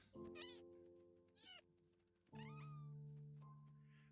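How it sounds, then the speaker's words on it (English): A cat meows in a video game, giving two short meows and then a longer drawn-out cry over a steady humming game soundtrack, close and clear. "Is that a cat?"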